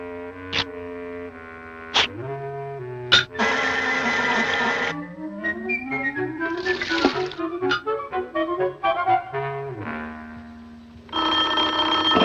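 A cartoon telephone rings as a sound effect: a series of tonal, bell-like bursts with pauses between them and sliding pitches, close and clear, with no speech.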